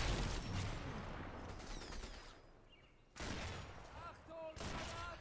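Bursts of rapid automatic gunfire crackle in the Sniper Elite 4 video game, two dense volleys separated by a brief lull, with a few sharper ricochet-like pings near the end.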